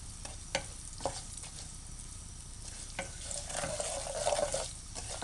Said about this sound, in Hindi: इस तड़के को फ्राई करते हुए एहतियात करें कि मिर्च जले ना